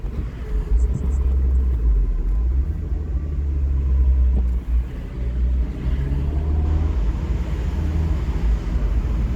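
Steady low engine drone and road rumble from a Daihatsu Copen 1.3 16v Sport on the move, continuous and close throughout, with someone talking over it.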